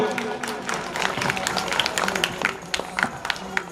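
An audience claps as a blessing for donor families at a welcome ceremony. The crisp, uneven hand claps carry over a low crowd murmur and continue for several seconds.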